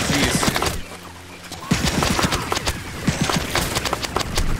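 Gunfire in the PC game Plants vs. Zombies: Battle for Neighborville, rapid close shots in loud bursts with a brief lull near the start, then a busy clattering stream of hits and blasts.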